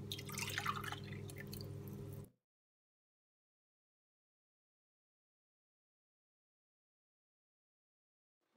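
Water poured into a bowl of flour and seed oil for a pie batter, a short close splash and trickle lasting about two seconds before everything goes quiet.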